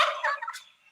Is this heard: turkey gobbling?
yes